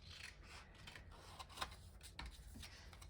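Scissors snip through the top of paper for mixed-media crafting, a faint close-up rasp of blades rubbing and cutting with a single sharper snip near the middle, quiet throughout.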